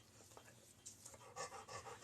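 Chocolate Labrador named Charlie panting softly in a quiet room, a steady run of quick, faint breaths with a few louder huffs toward the end.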